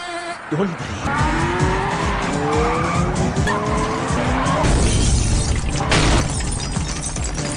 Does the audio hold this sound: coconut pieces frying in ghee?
no